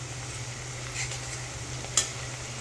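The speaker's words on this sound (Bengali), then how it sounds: "এখানে বেরেস্তার পেঁয়াজটা ভাজা হচ্ছে।" Sliced onions frying in oil to make beresta for chicken biryani, a faint steady sizzle with a low hum underneath and one sharp utensil tap near the end, no voices.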